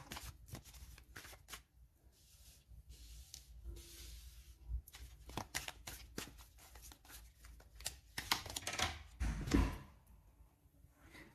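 Tarot cards are shuffled close up for a reading, giving soft riffling and tapping rustles in uneven bursts over a quiet room. No voice is heard.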